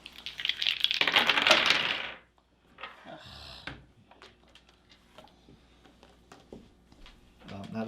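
Dice tumble and rattle on a table during a Dice Forge board game, a dense clattering roll lasting about a second, then scattered clicks and light knocks from handled pieces.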